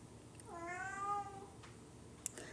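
A single cat meows in a long, rising-and-falling call lasting about a second, fairly close and clear, followed by a brief faint click; no one speaks.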